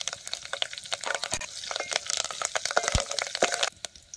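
Broken dried red chillies and a pinch of asafoetida fry in hot oil over a wood-fired village stove, a close, crackling sizzle punctuated by sharp pops and stirring clicks.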